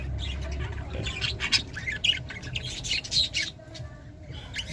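Caged birds at a backyard breeder's setup chirp, tweet and squawk in overlapping bursts, fairly close, over a low background hum, with no one speaking.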